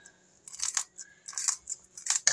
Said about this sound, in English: I like to take my kitchen scissors